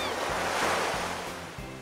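Sea waves break at the beach in a steady loud surge of surf with wind noise and no talking.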